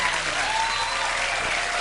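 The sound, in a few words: studio audience applause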